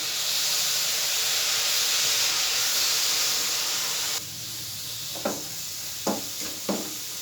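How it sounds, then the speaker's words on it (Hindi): Steady loud hiss and steam as sugar syrup is poured onto a roasting barfi mixture, dropping to a quieter sizzle after a few seconds, then three short scraping stirs near the end. "अब इसके अंदर मैं इस मौके पर जो मैंने शीरा बनाया था वो इसके ऊपर मैं ऐड कर दूँगा"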